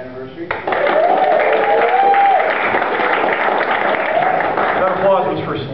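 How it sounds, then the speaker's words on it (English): Applause from a church congregation during a sermon, sustained dense clapping lasting several seconds with voices mixed in, loud and close. "That applause was for Selena."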